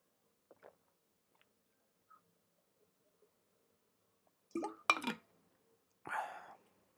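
Someone takes a sip of water: a few faint clicks and lip sounds, then a couple of close, wet slurping gulps and a soft breathy exhale in an otherwise quiet room.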